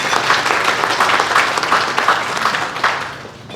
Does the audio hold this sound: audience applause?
yes